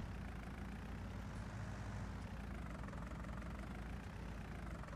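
A tractor engine idles in Farming Simulator 19 with a steady low rumble that holds even and unbroken throughout, fairly faint with no talk over it.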